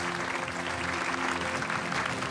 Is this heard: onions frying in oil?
no